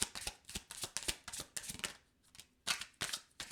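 Tarot cards being shuffled by hand in repeated quick riffling bursts with brief pauses between, close and fairly loud, no talking.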